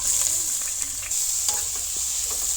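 Garlic sizzling in hot oil with bay leaves and cinnamon leaves in a home kitchen pan, a steady close hiss of frying with faint stirring scrapes and no talk.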